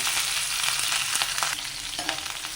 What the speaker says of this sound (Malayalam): ഇനി അതിലേക്ക് ഒരു ചെറിയ സവാള കറിവേപ്പില വെളിച്ചുള്ളി അതിലേക്ക് ഇട്ട് കൊടുക്കാം